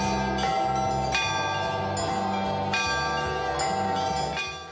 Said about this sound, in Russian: Сегодня колокольный звон звучит по всему Алексеевскому району и далеко за его пределами.